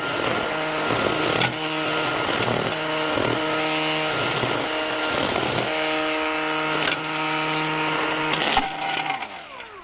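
A DeWalt 60V FlexVolt cordless string trimmer with a bump head whines steadily up close, its motor tone wavering as it cuts through grass, with a rough chattering texture before it winds down.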